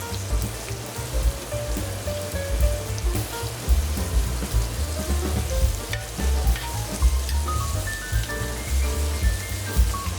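Filet mignon frying in a pan with butter and fresh rosemary, a steady close sizzle and crackle running unbroken throughout with no voices.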